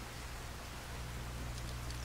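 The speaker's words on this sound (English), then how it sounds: "And it's pouring." Heavy rain in Fallout 4 pours steadily as a dense, even hiss of drops, with no talking over it.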